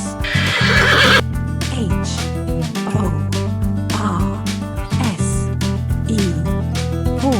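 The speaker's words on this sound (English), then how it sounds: "Horse. This is horse." A horse on a farm gives a loud, close whinny with a shrill quavering rise and fall, followed by snorting and further neighs, with hoof clip-clops faintly mixed in.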